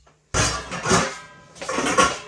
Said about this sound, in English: These are my pans I use for focaccia.